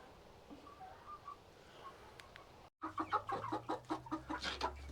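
Barred Rock and Buff Orpington hens, an older flock just coming out of molt, cluck and call inside a dim coop, with faint calls early and then a denser run of close, rhythmic clucks after a brief pause.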